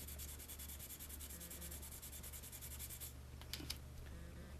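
Sandpaper rubbing printed lettering off a flute tube in quick, rhythmic back-and-forth strokes, close and soft, ending with a few faint taps.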